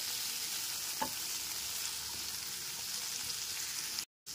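Vegetables sizzle steadily in a pan over a medium gas flame for oats khichdi, a constant frying hiss broken by a few soft stirring scrapes, close up and with no talk.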